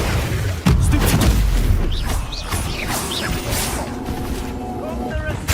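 Incendio and other spells cast in the video game Hogwarts Legacy, a series of whooshing bursts and booming impacts with magical shimmering tones, accompanied by a voice calling out spell names.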